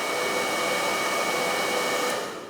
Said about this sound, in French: Si j'enclenche le sèche-cheveux loin de moi, je l'enclenche doucement.